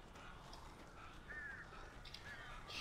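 Crows cawing in Alan Wake, several faint, distant harsh calls scattered over a quiet, low ambient background.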